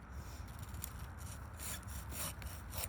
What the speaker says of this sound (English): now I'm going to get this larger one with the handsaw